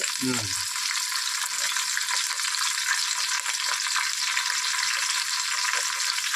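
Onions and green chillies frying in oil in a biryani pot make a steady, loud hiss and sizzle throughout, with a brief clatter of a utensil at the start.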